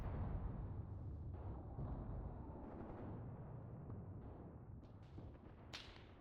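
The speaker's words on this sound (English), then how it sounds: "So these are our 8cm mortars impacting here." Distant 8cm mortar shells impacting in the video game Mius Front, a rolling run of muffled booms and thuds under a dense rumble of battle noise, with a sharper crack near the end.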